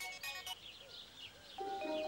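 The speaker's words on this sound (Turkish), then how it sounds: "Telefon geldi." A mobile phone rings with a short electronic ringtone, bursts of tones at the start and again near the end, moderately close inside a stopped vehicle, with faint voices between.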